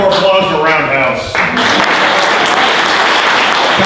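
Audience applause filling a ballroom, starting under tonal sound and a voice, then swelling into dense, loud, sustained clapping from a large crowd.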